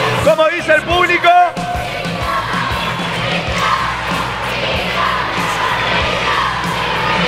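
A wrestling arena crowd shouts and cheers loudly and continuously, with a few sharp chanted yells at the start giving way to a dense, sustained roar.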